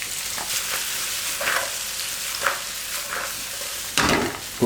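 Sugar snap peas and radishes sizzle in a hot pan, a constant crackling hiss up close with a few louder spits and a sharp flare of sizzle near the end.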